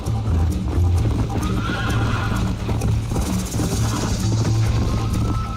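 A horse's hooves pound in a rapid, steady galloping rhythm in the video game Red Dead Redemption, with a whinny and some rattling mixed in.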